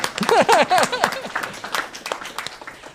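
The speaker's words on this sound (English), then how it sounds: "So give a round of applause to Mr. Patman." At a school board meeting, a room claps for Mr. Patman in a brief burst that peaks early and then tapers away, with voices mixed in.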